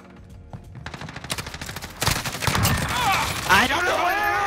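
Rapid video-game gunfire, starting as scattered shots and building into dense bursts of automatic fire, loud and close, with other game sounds layered on top toward the end.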